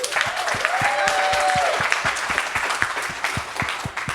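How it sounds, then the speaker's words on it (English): A conference crowd bursts into loud, sustained applause, dense overlapping claps filling the room, with a brief whooping cheer rising near the start and some audible individual hand claps standing out. "So let me hear a big round of applause."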